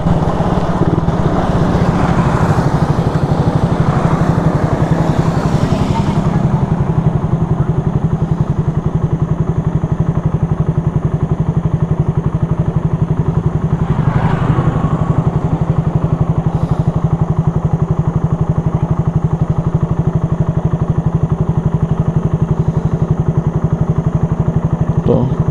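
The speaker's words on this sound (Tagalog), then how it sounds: "Medyo madaming motor ngayon guys dahil Sabado." Motorcycles passing on a road on a Saturday, a steady loud engine drone throughout with occasional louder passes swelling and fading, close to the microphone.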